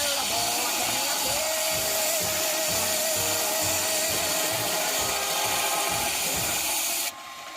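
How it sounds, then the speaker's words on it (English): A belt sander grinds down a coconut shell for a drink holder, a loud, steady abrasive whir that runs unbroken and then drops off near the end. "So we're going to move over to the belt sander now."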